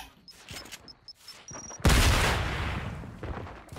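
A quad SMG in a video game fires a sustained loud burst that rolls on for a couple of seconds, following a few faint clicks and tones from the game.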